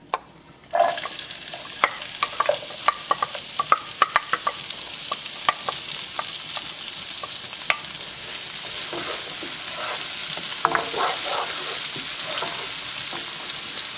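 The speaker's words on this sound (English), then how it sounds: "It's going to get a little loud, friends, but I'm going to go ahead and add my chopped onions." Chopped onions drop into a hot pan with browned beef, setting off a sudden loud sizzle that keeps going under scattered scraping and stirring clicks for several seconds.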